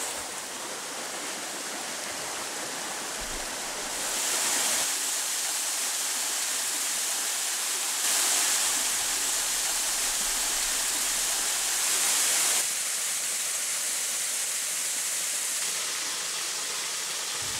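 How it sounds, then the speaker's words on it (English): Waterfalls roar steadily and echo off the giant sandstone canyon walls of a rift in Kanangra, New South Wales, a dense unbroken rushing wash that swells briefly louder a few times, with no voices. "the noise of the waterfalls reverberating off the giant walls"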